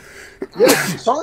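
A sneeze bursts out mid-conversation among men discussing the UFC 299 fight between O'Malley and Vera, one sharp close explosive burst with talk just before and after it.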